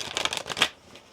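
Brief, close riffling of a tarot deck being shuffled, a quick flurry of papery flicks ending in a single snap.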